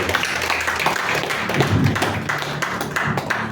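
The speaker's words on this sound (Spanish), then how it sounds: "Ponte de pie, dale un aplauso al Señor con todo tu corazón." Church congregation clapping continuously at a steady, fairly loud level, a dense patter of hands filling the room, with low murmurs and voices faintly underneath.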